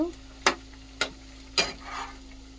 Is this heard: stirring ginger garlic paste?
yes